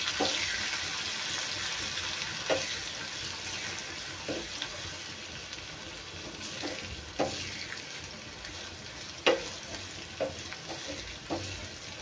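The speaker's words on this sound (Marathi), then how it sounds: "लसूण छान लाल होईपर्यंत आपल्याला फ्राय करून घ्यायचं आहे तेलामध्ये." Garlic, mustard seeds and red chillies fry in hot oil with a steady soft sizzle, while a spoon stirs and clinks against the pan now and then; no one speaks.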